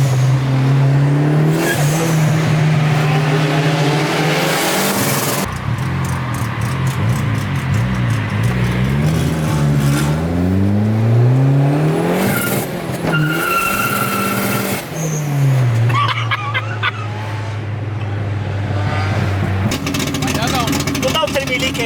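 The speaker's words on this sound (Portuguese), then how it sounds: "Turbo Flutter é muito foda." A Toyota Supra-style turbo engine set up on a Ford Focus street car revs hard repeatedly, rising and falling loudly with chattering turbo flutter between throttle blips, while people talk over it.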